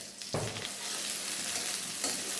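Chopped onion and green chillies fry in about two tablespoons of oil, making a constant bright sizzle up close. A sharp stirring clatter comes early on and another near the end.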